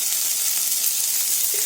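Oil sizzling in a frying pan on the stove, a steady soft hiss that holds without a break and has no voices over it.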